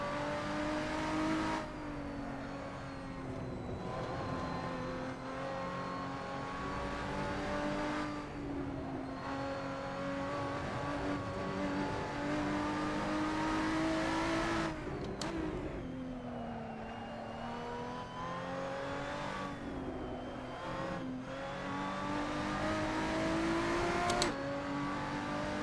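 Lotus 3-Eleven race car engine in Assetto Corsa at Mugello, a steady loud drone rising and falling through gear changes for the whole stretch, with no talk over it.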